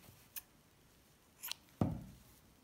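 Scissors snip off the end of a yarn thread during a crochet finishing step: a few faint, quiet clicks and then one sharper close cut, all alone with no talking.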